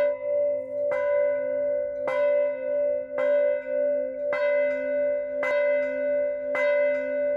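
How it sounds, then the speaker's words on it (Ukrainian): A memorial church bell in the village of Pivnivka, Luhansk region, tolls at a slow, even pace, each clear strike ringing out over a long sustained hum, with no voices. "Сьогодні зранку там пролунав дзвін пам'яті."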